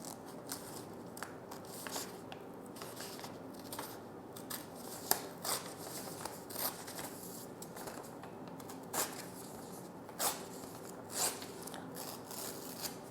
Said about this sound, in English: So cut this portion from your A4 size paper